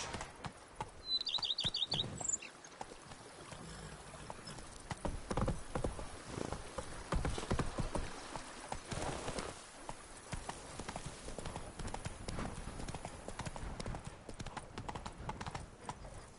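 Roach, a horse in The Witcher 3 game on PS4, gallops with a steady, close clip-clop of hooves throughout, joined briefly by bird chirps near the start.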